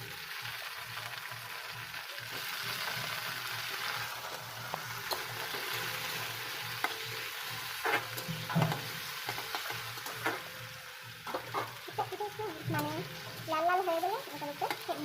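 Vegetables sizzle and fry in a pan as tomatoes go in, with stirring scrapes and a steady hiss running throughout, close by; a few voices talk faintly in the background.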